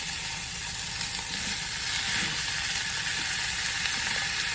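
Crumbled sausage and sweet onion sizzle loudly in a hot pan over medium-high heat, a dense continuous crackle with faint stirring clatter underneath.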